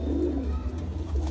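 Green Madrasi pigeons give a low, soft cooing, close by and steady over a faint background murmur.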